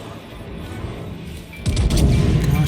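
Battleship gunfire in World of Warships, with a Nagato firing and shells ricocheting: a quiet stretch of ambient rumble gives way to a sudden loud, booming salvo and crashing impacts.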